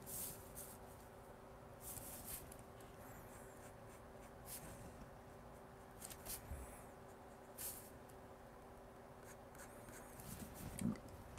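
A pencil or pen drawing lines on paper, with soft scratchy strokes in irregular bursts, quiet and close, alone without talk.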